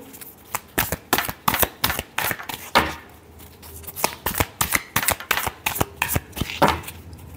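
Tarot cards shuffled for a Leo reading, a brisk series of sharp riffling slaps and snaps in uneven clusters, loud and close, with no one talking.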